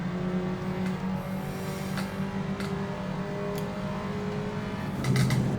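Engine note of a Legends race car in the iRacing sim, a steady droning hum held throughout with a brief louder swell near the end, no talking.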